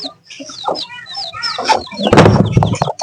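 A hen clucks close and loud in a series of short, irregular calls, with other fowl chirping around her and a burst of flapping or scuffling near the end.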